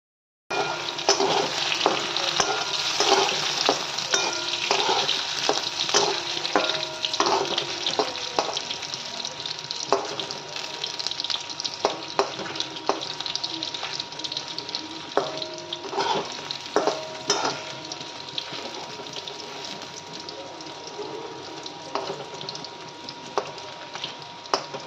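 Pumpkin greens stems for chorchori fry in a hot pan and are stirred, giving a continuous loud sizzle broken by repeated scraping and clattering stirs, with a brief watery trickle early on.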